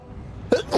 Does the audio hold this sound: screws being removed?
no